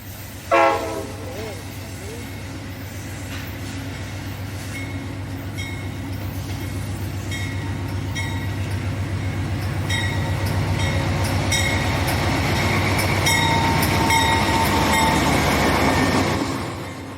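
A passenger train, Amtrak's northbound Silver Meteor hauled by General Electric Genesis engines, rumbles past close by near the Auto Train terminal, steady wheel noise and clatter building, with a loud horn blast near the start and tonal horn sounds later.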